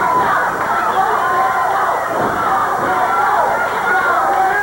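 A wrestling crowd at a CWA Memphis arena show roars without a break, a dense and loud wall of voices jeering at a wrestler that never drops away.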